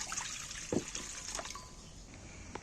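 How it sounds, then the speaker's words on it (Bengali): A mug of water is poured into a kadai set on a lit clay stove, making a faint, brief splash and trickle that is close but soft, with no talking. "উনুন জেলে দেওয়ার পর আমি কড়ায় এক মগ জল দিয়ে দিচ্ছি"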